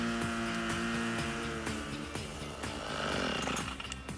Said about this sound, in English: The Rover RS 2600 has a powerful 25cc two-stroke engine